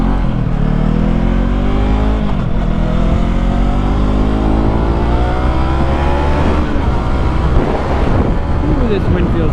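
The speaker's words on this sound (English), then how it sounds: "Ooh, this wind feels nice." Steady loud wind buffeting and rushing past while riding a 2021 Yamaha MT-03 motorcycle on a hot day, the engine's rising and falling drone running underneath throughout.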